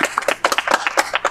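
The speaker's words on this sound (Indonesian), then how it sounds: "Suara tepuk tangan" A small audience claps for two guest stars on a campus podcast, a brief, loose patter of individual hand claps, close and uneven, with no talk over it.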